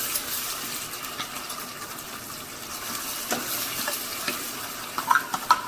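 Onions frying in a pan with freshly ground masala paste stirred in for a Rayalaseema mutton head curry: a steady close sizzle with scraping stirs and a few sharper clinks near the end, no talk.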